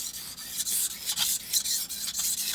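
A kitchen knife is drawn across a King whetstone to strip a small micro burr from one edge, giving a steady close gritty rasping in repeated strokes with brief breaks between passes.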